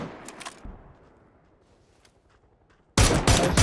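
Gunfire in the PC battle royale game PUBG: a few quick shots near the start, a quiet lull, then a loud, dense burst of sustained fire that fills the final second.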